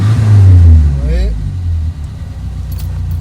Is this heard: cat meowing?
no